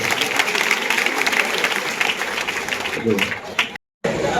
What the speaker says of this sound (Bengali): আরে জোরে হাততালি সবাই